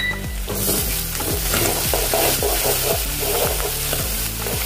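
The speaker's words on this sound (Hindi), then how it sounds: "अभी प्याज हो गया है, अभी हम इसमें अदरक लहसुन का पेस्ट डालेंगे।" Ginger garlic paste sizzling in a frying pan with onion, stirred with a spatula: steady close frying hiss broken by repeated scraping strokes, with no talking.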